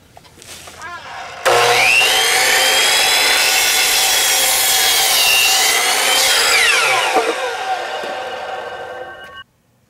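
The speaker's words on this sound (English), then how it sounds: "I'm able to just sandwich this plywood against the trim." Power saw ripping through 3/4 inch plywood during a lean-to greenhouse build, a loud rising whine under load for several seconds that winds down as the cut ends, with no talking.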